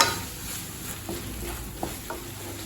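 Tomatoes sautéing in a pan for paneer butter masala give a steady, soft frying hiss close by, broken by a few light taps of a spoon, with no one speaking.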